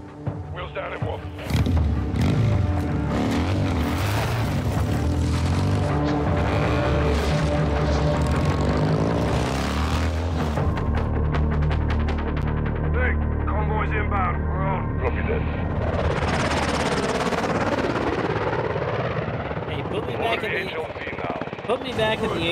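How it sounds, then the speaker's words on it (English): The droning engines of an AC-130 gunship in Call of Duty: Modern Warfare II form a steady, loud propeller hum with shifting tones and bursts of game effects, while voices talk over it throughout. "Back in the AC-130."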